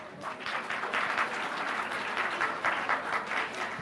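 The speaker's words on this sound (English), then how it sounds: "have a huge round of applause for them" Audience applause welcoming student performers to the stage at a school anti-cyberbullying event, a dense, steady wash of many hands clapping for about four seconds, moderately loud and unbroken, with no voices over it.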